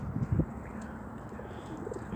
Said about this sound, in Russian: эти голуби урлыкают